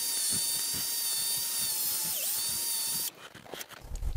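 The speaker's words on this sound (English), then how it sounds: "So I just drilled all 8 of these holes out to be pretty much exactly 3 millimeters." An electric drill boring 3 mm holes in carriage parts for Y rails, a steady high whine with a brief dip in pitch as the bit bites, then cutting off into quieter handling clatter near the end.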